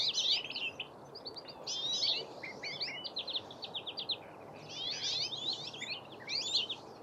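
Finches chirp and sing in rapid, high bursts, broken by short pauses, over a constant low outdoor hiss.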